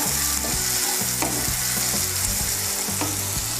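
Vegetables and green chillies frying in oil in a pan for fried rice, a loud, dense, continuous sizzle with rhythmic scraping strokes of a spatula, close and alone.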